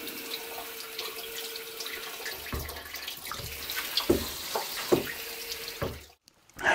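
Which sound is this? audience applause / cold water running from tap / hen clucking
cold water running from tap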